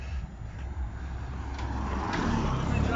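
Road traffic rolls past on a road near Agia Efimia, a steady engine and tyre rumble that swells slightly as vehicles pass, fairly close and continuous.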